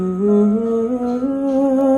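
A human voice imitates the eerie, wordless humming heard over a phone call, a steady, slightly wavering hum that rises gently in pitch across two seconds, close and clear.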